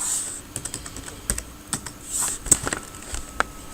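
Someone types a search query on a computer keyboard, a quick irregular run of close, crisp key clicks with brief pauses between bursts.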